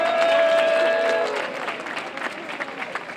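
A crowd at an outdoor rally in Alicante in support of public television breaks into applause that starts loud and dense, then tapers into scattered clapping, with a tone ringing briefly at the start.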